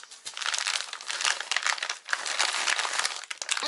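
A plastic AliExpress mailer, a package nested inside another package, crinkles and rustles steadily as it is handled and opened close up, with no talking.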